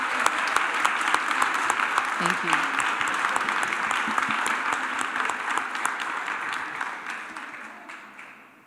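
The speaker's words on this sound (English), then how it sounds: "Shall we give Dr. Chigumazi another applause?" A lecture audience applauds, dense continuous clapping that holds steady then tapers off near the end, with a brief spoken thanks over it.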